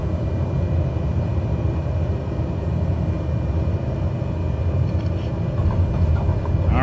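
Steady, loud engine drone of a Cessna 208 Caravan in Microsoft Flight Simulator near Buchanan Field, a continuous low rumble that holds even throughout, with faint higher tones creeping in toward the end.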